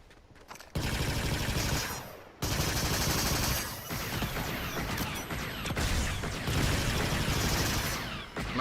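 Sustained rapid gunfire from the video game Fortnite, during a Mandalorian event, plays as dense bursts of automatic shots. It is loud and continuous, with brief gaps, and no voices over it.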